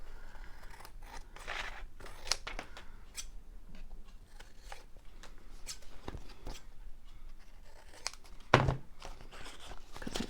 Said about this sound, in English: Sorry if those scissors are very close to the camera